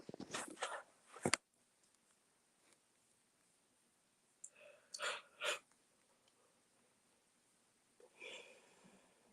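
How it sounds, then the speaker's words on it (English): A single sharp sneeze bursts out near the start, followed by a few short breathy snorts and sniffs around the middle and a faint exhale near the end, all close and otherwise quiet. "I sneezed."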